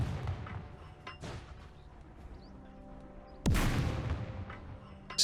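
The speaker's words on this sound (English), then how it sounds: "Keep using the mortar on the one that's more in the open." A mortar fires in the turn-based WW2 game Second Front, a sharp loud boom with a rumbling tail following an earlier softer thud, over a low ambient bed.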